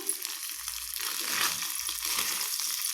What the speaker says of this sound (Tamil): இந்த அளவுக்கு பொரிஞ்சால் போதும், அதிகமாக பொரிய விட வேண்டாம்